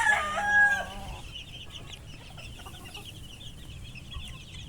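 Young Boston Roundhead chicks ranging outdoors cluck and peep, a loud burst of calls up close in the first second, then softer scattered chirps against a faint outdoor background.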